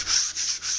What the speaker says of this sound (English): what I'm going to do is just do a light sand